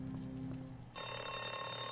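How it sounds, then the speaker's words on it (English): An alarm in The Walking Dead video game set off by opening a door, a continuous electronic ringing that shifts abruptly to a brighter, harsher tone halfway through, with no talking. "the alarm had to go off because we opened the door"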